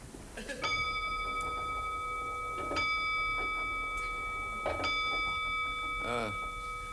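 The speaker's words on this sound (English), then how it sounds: "listen to the chimes. They're absolutely superb. You listen." A clock strikes three clear, ringing chimes spaced about two seconds apart, each tone lingering, with faint ticking and a brief voice near the end.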